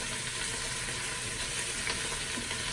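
Beef sears in a Ninja Foodi pot, a steady close sizzle and crackle of frying meat that runs without pause and with no talk over it.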